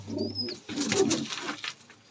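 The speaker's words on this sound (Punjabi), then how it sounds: "ਇਹ ਆ ਕਬੂਤਰ" Domestic pigeons kept at home, breeding pairs with chicks, coo close by in a short soft run of throaty, rolling calls.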